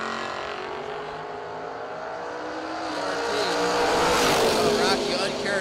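A Mustang race car runs hard at a Fall Brawl racing event, its engine roar building in loudness and pitch over a few seconds, with an announcer talking over it.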